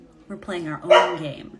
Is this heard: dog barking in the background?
yes